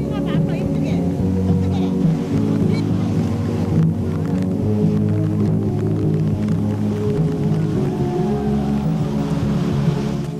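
Roaring water at the base of Niagara Falls beside a tour boat, a loud, steady, broad rush with waves and engine hum throughout, while a voice speaks over it.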